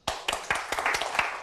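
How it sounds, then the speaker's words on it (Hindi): A crowd claps to welcome new teachers at a school gathering, a short burst of dense, close applause with no talking. "सभी लोग तालियां बजाकर हमारे नए टीचर्स का वेलकम करें।"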